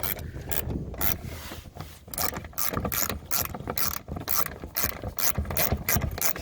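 A screw being driven back in while fitting a mudflap on a 2019 Toyota RAV4, giving a loud, close ratcheting and grinding mechanical whir in repeated bursts with short pauses, with no voices.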